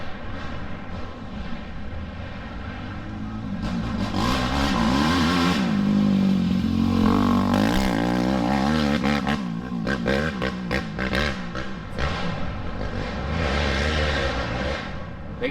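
Dirt bikes roar past close by on a dirt trail at a GNCC off-road race, engines swelling loud and then fading, one rider after another at high speed.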